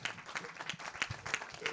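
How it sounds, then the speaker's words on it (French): Audience applause at a round-table conference on living better with illness, heard as a brief, faint patter of clapping from a small room, scattered and uneven. "on peut vous applaudir pour ce travail de sensibilisation"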